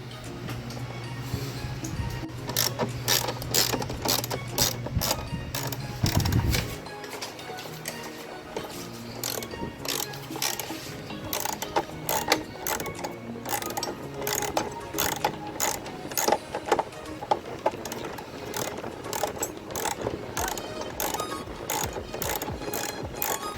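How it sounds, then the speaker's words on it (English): A ratcheting wrench loosens the battery hold-down bolts on a car, giving rapid, loud mechanical clicking in repeated bursts close by for the whole stretch, with brief pauses between strokes. "So now we need to get a ratcheting wrench, take these off here, then we can slide the battery back."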